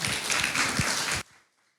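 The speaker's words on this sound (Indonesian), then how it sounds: "Berikan tepuk tangan paling meriah buat Tuhan." A church congregation claps together during a sermon, dense and lively applause that cuts off abruptly near the end, leaving near silence.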